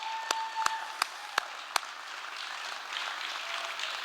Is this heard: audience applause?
yes